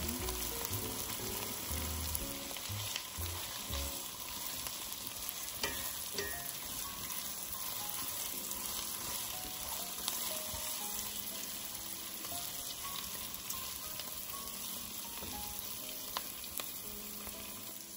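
Chicken pieces frying in a pan for lomi, a steady broad sizzle running throughout at close range with faint scattered stirring clatter, no voices.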